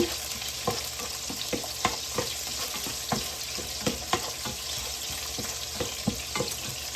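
Garlic frying in a pan until golden brown gives a steady close sizzle, broken by regular clicks and taps of stirring every half second or so.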